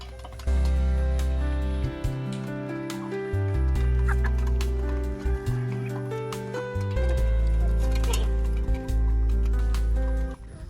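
Chickens cluck steadily while eating feed on a farm, layered under a persistent tonal hum or music that dominates throughout, with no voices.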